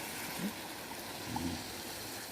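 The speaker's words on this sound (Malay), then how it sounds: "Saya masukkan air daging yang rebusan tu." Beef boiling broth is poured into a pot of mamak-style beef curry with potatoes, a steady, faint trickling pour running throughout with a couple of soft splashes, and no talking.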